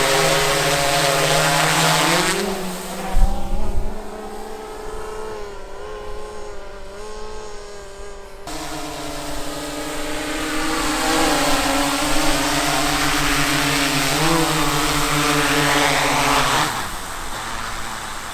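A small training drone hovers and flies overhead in North Wales, its steady high-pitched propeller whine bending up and down as it manoeuvres, loud and close throughout.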